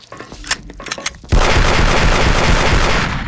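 Pistol fire in Aliens versus Predator 2: Primal Hunt aimed at alien eggs: a few sharp cracks, then a sudden sustained loud blast of noise that fills the rest of the moment.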